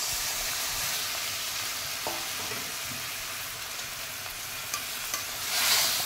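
Fish coated in spice paste being stirred and turned in a hot pan, a steady close sizzle and frying hiss with soft scraping clicks of the spatula, no voices.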